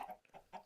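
Video game chickens cluck in short, close bursts, three quick clucks spaced evenly with no other sound around them.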